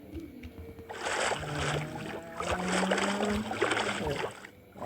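A boat glides across water in Minecraft, with a steady low splashing and paddling wash lasting several seconds at moderate level, over faint background tones.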